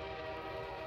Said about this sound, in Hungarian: Vonat kürt!